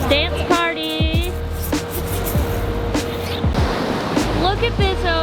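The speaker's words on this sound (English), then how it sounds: "Look at this ocean." Ocean waves wash and surge around a boat underway at sea in a steady, full rush of surf, with people talking and laughing close by over the water.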